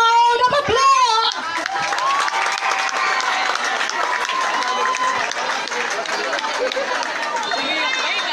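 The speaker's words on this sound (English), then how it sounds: "Let's give them a round of applause." An audience applauds a school drum and lyre corps at a competition, broad crowd clapping and cheering that swells in after a short voice and holds steady, with chatter mixed in.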